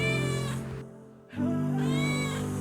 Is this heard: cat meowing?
yes